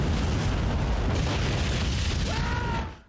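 A loud, rumbling explosion from a gas leak in an animated Justice League show fills the air, a sustained roar of blast and debris that fades out at the end.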